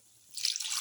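Water poured into a pan of split chickpeas during cooking, a soft splashing trickle that swells in after a quiet start and runs steadily to the end, close and fairly faint.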